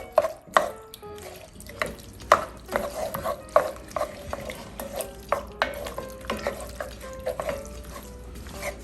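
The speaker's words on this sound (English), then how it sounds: "give it a good stir here" Cuban oxtail stew is stirred in a STAUB Chistera pot, with a spoon knocking and scraping irregularly against the cast iron over a faint simmer, up close and without talk.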